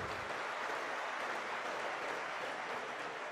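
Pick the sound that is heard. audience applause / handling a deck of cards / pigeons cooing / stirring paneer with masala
audience applause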